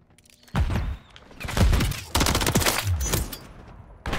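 Bursts of gunfire in the video game Modern Warfare 3 during ranked online play, rapid shots and booming impacts layered over each other, with a voice speaking briefly among them.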